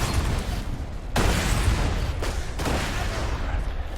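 Dense bursts of Borderlands 2 gunfire and explosions crackle continuously, loud and chaotic, with heavy booms punctuating the rapid shots.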